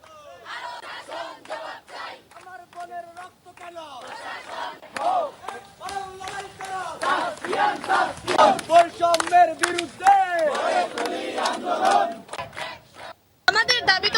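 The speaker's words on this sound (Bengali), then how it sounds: "এ সময় আন্দোলনরত শিক্ষার্থীদের বিভিন্ন স্লোগান দিতে দেখা যায়।" Students chant slogans together at a quota reform protest march at a university, loud rhythmic crowd voices rising and falling throughout with scattered claps, a brief pause near the end before the chanting resumes.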